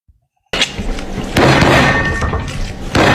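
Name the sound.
card in hand banging on table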